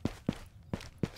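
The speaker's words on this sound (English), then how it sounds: "So when you hear like footsteps." Four footsteps land at an even walking pace in the Ghost of Tabor video game, soft and close, with quiet gaps between the steps.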